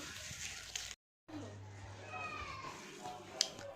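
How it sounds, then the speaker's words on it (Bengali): A small kitten meows faintly amid household noise, with a brief silent gap and a person speaking softly. "ম্যাও ঢুকেছে ম্যাও কিউটি কিউটি ম্যাও ছোট্ট একটা পুচকি ম্যাও"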